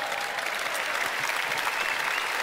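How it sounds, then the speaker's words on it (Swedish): Audience applause at a Swedish sports awards gala, a steady, dense wash of clapping hands throughout, with no voices rising above it. "det är fan värt en applåd"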